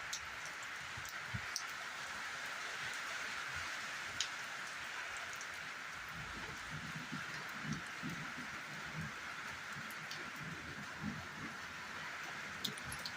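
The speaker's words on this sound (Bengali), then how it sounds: "দেখো বৃষ্টির জল।" Morning rain pours steadily, heard from beneath a roof overhang: a constant, even wash of drops hitting surfaces, fairly close and uninterrupted, with scattered brighter taps and no voices.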